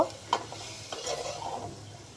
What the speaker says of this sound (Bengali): সেই সবজিটা আমি দিয়ে দিব মশলাটার সঙ্গে, ভালো করে মিশিয়ে আমি আরেকটু কষিয়ে নেব।